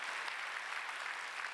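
Congregation applauding during a Wednesday worship service at a church, a short steady wash of clapping from many hands with no voices over it.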